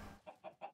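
A Minecraft chicken gives three short, evenly spaced clucks, soft and alone.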